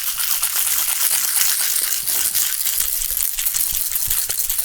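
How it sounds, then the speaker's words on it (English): Ice rattles hard inside a cocktail shaker holding aged rum in a fast whip shake, a continuous dense clatter with sharp crunching hits throughout and no talking. "give it a whip shake"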